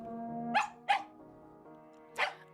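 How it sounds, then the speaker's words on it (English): A dog in the horror video game Tiny Bunny gives three loud, close barks: two quick ones in succession, a pause, then a third, over a quiet sustained musical background. "A dog reminded us of its existence with a loud bark."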